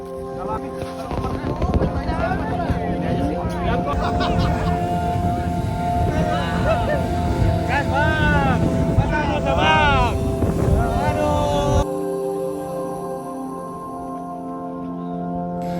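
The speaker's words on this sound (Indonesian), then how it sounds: "Kami akan melanjutkan perjalanan dengan speedboat menuju Batam." A speedboat runs toward Batam in the Riau Islands with a steady engine drone and heavy wind buffeting the microphone. Tonal sounds and voices ride over it before the noise changes near the end.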